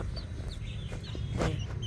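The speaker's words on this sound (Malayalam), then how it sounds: "ഇതെല്ലാം പൂവനാണ്." Roosters of a native breed cluck and murmur nearby in short, soft bursts over a low barnyard rumble, several birds calling at once.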